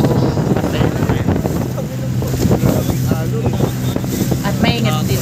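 A motorboat engine drones over choppy water with wind rumbling against the microphone, as strong waves slap and splash around the hull of a tour boat.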